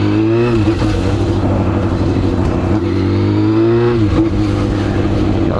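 A Yamaha FZ6N motorcycle engine runs loud and close at steady high revs, its note dipping and rising slightly, with occasional faint pops from the exhaust.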